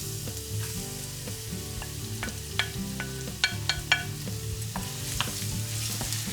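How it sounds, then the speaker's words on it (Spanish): Garlic fries in a little hot oil for a vegan bourguignon, a continuous close sizzle broken by several sharp utensil clicks and scrapes of stirring in the pan, with no talking. "En un poco de aceite caliente rehogamos el ajo."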